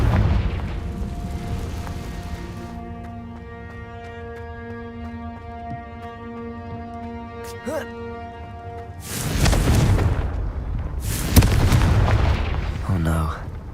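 A Confringo blasting spell goes off in Hogwarts Legacy, a sudden loud burst that roars on for a few seconds, followed by a second blast, over a steady tonal music bed with a voice speaking beforehand.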